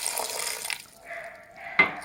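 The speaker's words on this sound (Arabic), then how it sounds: "فانا هولع على دول واحط ربع كوبايه ميه بس" A quarter cup of water is poured onto eggplant and vegetables in a cooking pan, giving a brief splashing pour followed by a soft trickle and a sharper splash at the end, heard alone.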